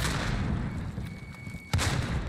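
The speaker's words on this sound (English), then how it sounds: "Grenade out!" A single grenade explosion sounds in Call of Duty Warzone as a short heavy thump over steady game rumble near the end.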